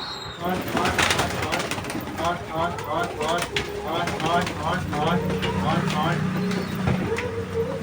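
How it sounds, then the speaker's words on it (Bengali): Pet pigeons coo repeatedly at feeding time, a rhythmic series of soft throaty calls close by, with people talking over them and some background noise. "চলো বাইরে গিয়ে সব কটা পায়রাকে খেতে দিয়ে দিই"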